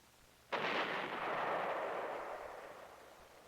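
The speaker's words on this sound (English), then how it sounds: "Recon patrols discovered approximately 350 VC tunnels or fortifications which were destroyed by demolition." A demolition blast destroying Viet Cong tunnels and fortifications: one sudden heavy boom followed by a long rumbling roar that slowly fades over several seconds, heard alone at a distance.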